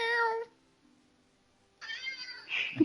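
A cat meows in a video game, one short clear meow at the start, then near silence before a second drawn-out meow that ends in a brief thump.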